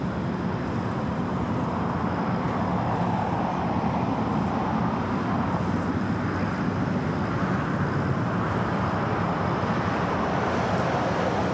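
A Boeing 787 Dreamliner begins its takeoff roll on runway 25 right at LAX, a distant, continuous jet engine roar with steady broadband rumble, heard from afar and without talk.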